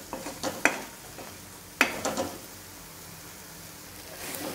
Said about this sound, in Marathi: आता हे 2 मिनिटांसाठी आपण एकदम लो टू मिडियम गॅस आहे आणि त्याच्यावर मसाला